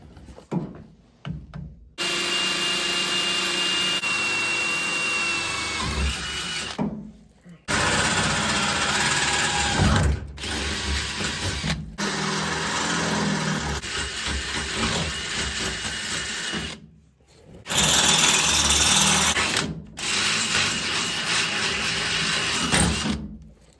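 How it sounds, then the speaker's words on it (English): A power drill bores a hole in metal for a carriage bolt while fitting a trailer hitch to a Ford Ranger, whirring loudly in four long bursts with short pauses between. "Now I can get in here with a drill bit, go ahead and drill that out, and install that carriage bolt."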